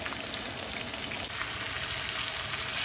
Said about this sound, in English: I actually fry the onions in the same oil and the masala.